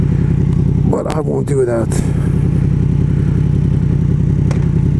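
Yamaha MT-10 motorcycle engine running while riding, a steady low rumble under a brief spoken remark from the rider, continuing alone afterward.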